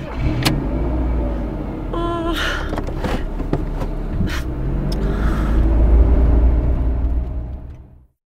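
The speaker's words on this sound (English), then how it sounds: "can you start the car," A car engine starting with a brief cranking whir, then settling into a steady running rumble that fades out at the end, heard in a driving test scene.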